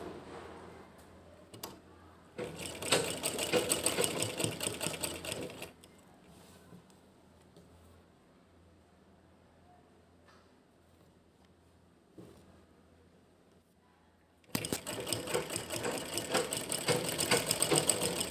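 A sewing machine stitches lace onto the edges of a table cover, whirring in a rapid steady rhythm through two close bursts, with a quiet pause in between.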